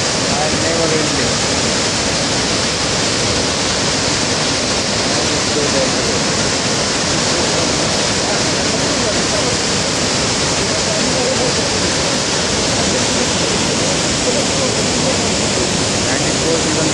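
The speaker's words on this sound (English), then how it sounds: "The glorious waterfall. Look at the fall." Iguassu Falls roar as a dense, loud, continuous rush of falling water that fills the whole stretch without letup, with a voice faintly under the noise.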